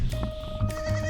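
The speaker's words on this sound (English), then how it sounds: "And I was like, he must have had goats. And little do you know, you can hear him right now." A goat on a small Bahamas island bleats close by in short, nasal, wavering cries, two or three in quick succession over a faint steady background tone.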